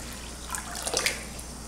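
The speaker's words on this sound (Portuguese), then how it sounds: "Bota a água em cima do vinagre." Tap water pours briefly into a bowl holding vinegar, a soft, close splashing trickle with a few brighter bubbling spurts midway.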